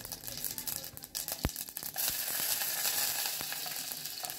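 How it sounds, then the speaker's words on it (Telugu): Mustard seeds, cumin and two dry red chillies sizzle and crackle in hot oil, a close, steady frying hiss with sharp pops and occasional stirring. "నూనె వేడెక్కిన తర్వాత దీనిలో కొన్ని ఆవాల్ని, కొంచెం జీలకర్రని, ఒక 2 ఎండు మిరపకాయలని కూడాను వేయించుకోవాలి"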